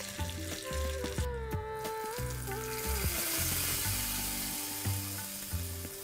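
A tempering of urad dal sizzles and crackles steadily and loudly in hot oil throughout, while cooking Kerala Onam Sadya dishes, with rhythmic background music playing underneath.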